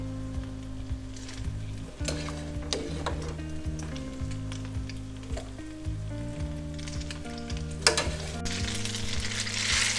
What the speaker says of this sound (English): And here it starts to sizzle.